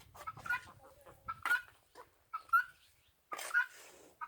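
Chickens cluck softly in short, scattered bursts, close and quiet, with gentle rustling between the calls.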